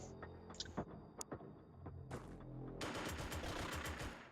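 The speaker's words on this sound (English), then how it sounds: "Machine gun fire, get a nice hit there." Machine gun fire in the video game Xenonauts 2: a few sharp reports at first, then a sustained dense burst of rapid shots, fairly quiet and close.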